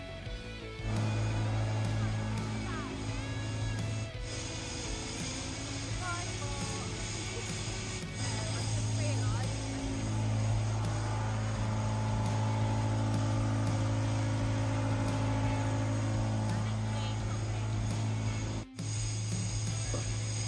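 A blower trailer unloads a load of feed pellets, its engine and blower droning in a steady loud hum with tonal whine and the rush of pellets through the pipe, broken by brief pauses and clunks.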